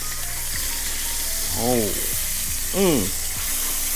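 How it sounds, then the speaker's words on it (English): Grunt fish sizzles in hot oil in a pan, a constant crackling hiss punctuated by a couple of short clattering scrapes, with a brief exclamation from a voice. "Y'all hear that sizzle?"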